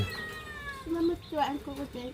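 A cat meowing close by, giving several short meows in quick succession in the second half, with a voice present in the background.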